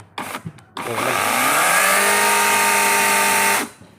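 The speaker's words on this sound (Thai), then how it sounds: "เลื่อยไฟฟ้า 40 โวลต์" A Greenworks 40-volt electric chainsaw whines up after a few clicks, holds a loud steady high-pitched buzz for a few seconds, then spins down.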